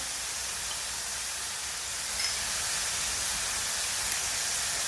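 Blanched bok choy and cooked meat stir-fry in a hot pan with soy sauce and oyster sauce, giving a steady, even sizzling hiss that carries on alone without a break.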